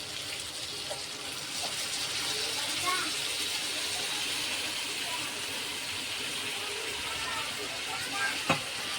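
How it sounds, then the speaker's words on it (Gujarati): A steady hissing sizzle fills the pan as water hits hot oil and frying masala for spiced okra, continuing evenly with a faint clink near the end. "હવે તેમાં આપણે ચાર ચમચી પાણી ઉમેરીશું"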